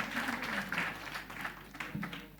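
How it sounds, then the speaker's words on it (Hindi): Audience applause for the competing teams at a quiz competition prize announcement, a moderate wash of clapping in a hall, fairly steady with slight swells and a few voices underneath. "चलिए इन सभी टीमों के लिए जोरदार तालियां बजाएंगे"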